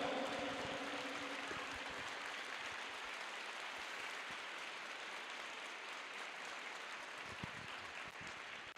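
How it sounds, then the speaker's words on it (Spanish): Sustained applause from a church congregation, steady and broad, filling the whole stretch at an even level with no talking over it. "Si lo crees, dale un aplauso al Señor."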